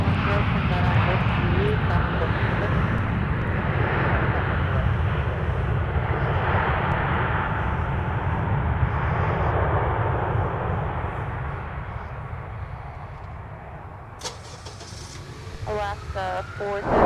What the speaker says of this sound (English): We're getting Alaska Airlines landing right here,